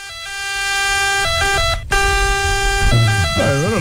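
A wailing ambulance siren sound effect played on an Italian sports TV talk show, loud and continuous with rising and falling tones, briefly cut off mid-clip and resuming as people talk over it.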